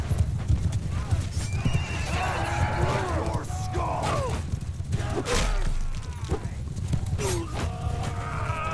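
Rapid hoofbeats clatter steadily while horses neigh and whinny several times in Mount & Blade II: Bannerlord, amid a busy, noisy background with voices.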